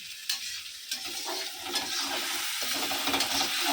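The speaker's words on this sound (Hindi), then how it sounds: "अच्छे से बहुत भूनने देंगे इसको।" A spoon stirs paneer curry masala as it roasts in a hot pan, with scraping strokes over a steady loud sizzle and frying crackle throughout, close by and with no voices.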